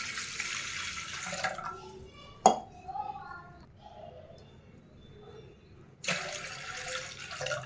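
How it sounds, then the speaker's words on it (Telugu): Water pours into a cooking pot for Andhra-style tamarind rasam in two splashing bursts, one at the start and one near the end. Between them come a sharp clink and quiet speech. "మనకు ఎంత రసం అయితే కావాలో అంత మనం వాటర్ యాడ్ చేసుకున్నాం"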